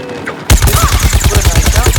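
Rapid volley of footballs fired by an American football zombie in Plants vs Zombies Garden Warfare, a loud, steady stream of punchy bursts that starts abruptly and keeps a fast, even rhythm against busy game noise.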